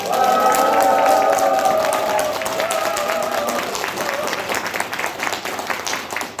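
Sustained audience applause at a Democratic Party of Korea regional rally for the presidential election, a dense crowd clapping loudly and then gradually tapering, with a voice over the top at the start.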